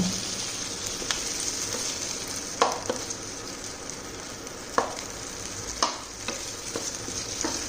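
Chopped tomatoes go into onions frying for paneer lababdar, giving a soft steady sizzle with several sharp spoon scrapes and clinks as they are stirred, no speech.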